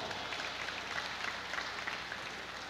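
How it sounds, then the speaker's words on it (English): Audience applause at a senior-centre community event, a steady, even wash of clapping that continues at an unchanging level throughout. "Let's give her a real round of applause."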